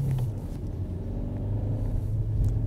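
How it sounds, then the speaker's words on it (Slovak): A car on Michelin CrossClimate all-season tires accelerates toward 55 km/h on a winter road, giving a steady, close engine rumble with low road and tire noise and no voices. "rozbehneme sa na 55 km za hodinu a vyskúšame si krízové brzdenie na celoročkách"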